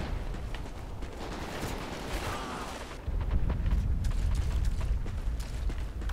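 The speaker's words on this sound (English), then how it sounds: "Oh, this gun, the recoil in this is awful." Weapons fire in Call of Duty Ghosts on Xbox One, a gun with heavy recoil, lands as dense booming shots and blasts, fairly faint at first and then heavier and louder in the second half.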